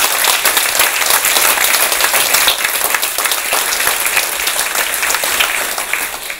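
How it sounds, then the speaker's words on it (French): An audience at a French entrepreneurs' association event applauds, a dense and loud wash of clapping that holds steady for several seconds and tapers slightly toward the end. "on peut les applaudir"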